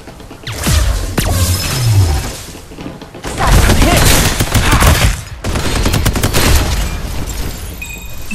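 Gunfire in the video game Farlight 84, dense bursts of automatic shots and impacts crackling across the whole stretch in three loud waves, with brief pauses and a voice speaking over parts of it.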